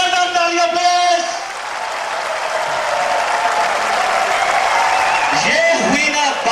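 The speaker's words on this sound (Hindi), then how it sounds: "मेरे भारत के लिए, मेरे हिंदुस्तान के लिए, मेरे इंडिया के लिए जोरदार तालियां प्लीज।" Large crowd at the Wagah border Independence Day ceremony between India and Pakistan claps loudly and continuously, a sustained roar of applause with some cheering voices mixed in.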